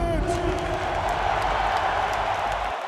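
Lakers fans fill a basketball arena with a steady roar of crowd noise and applause, a broad continuous wall of sound with an amplified voice carrying over it.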